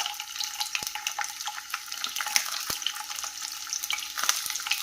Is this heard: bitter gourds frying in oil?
yes